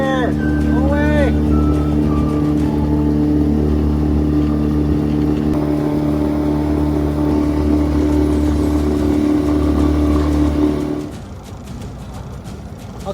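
A boat motor drones steadily while the boat runs between squid fishing spots on Puget Sound in the rain, a loud continuous hum that drops away sharply near the end.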